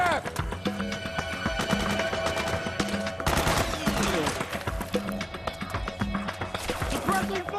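Battle gunfire in Metal Gear Solid 4, a dense continuous fusillade of rapid automatic shots mixed with shouting voices and game effects, busy and loud throughout.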